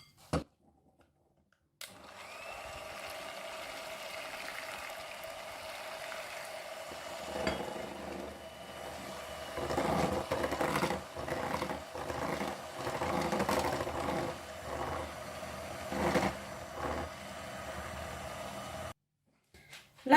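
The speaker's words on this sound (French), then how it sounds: "Je reprends le lait bien bouillant et je l'introduis au mélange tout en fouettant." A whisk beats rhythmically against a bowl as very hot boiled milk is poured into a flan mixture with caramelised apples, a steady scraping, clicking patter that grows busier midway before stopping.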